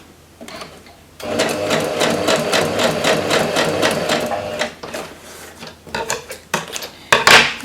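A sewing machine stitches fabric scraps in a steady, fast mechanical whir lasting several seconds, then breaks off into shorter bursts and clicks near the end.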